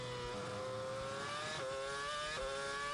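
Formula 1 cars at 2007 Malaysian Grand Prix qualifying, engines screaming high and rising through the gears as they head into turn 4, a continuous distant-to-near whine with quick shifts.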